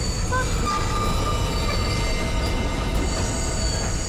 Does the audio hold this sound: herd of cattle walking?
no